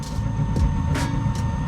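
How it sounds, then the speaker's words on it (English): A Suburban RV furnace with an IW60 air pressure switch problem runs with a steady low rumble and hum, punctuated by brief airy bursts, close and fairly loud, with no one speaking. "The furnace comes on,"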